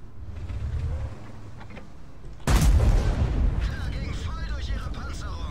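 A Ferdinand tank destroyer's cannon firing in the World of Tanks video game, one sudden heavy boom midway that rumbles and decays into the battle noise, with someone talking over the game sounds.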